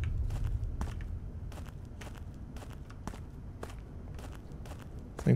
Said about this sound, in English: Thought I heard creepy-ass footsteps.